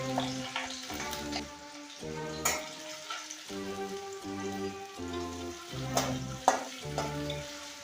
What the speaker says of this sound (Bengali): রসুনটা লাল হয়ে ভাজা হয়ে যাওয়ার পরে